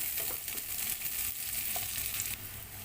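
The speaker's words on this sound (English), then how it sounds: "Now it is next we have to put our garlic. Just saute for 1 minute." Garlic sautéing in a pan for a Filipino pork and mung bean stew, a continuous close sizzle with light stirring scrapes, easing slightly toward the end.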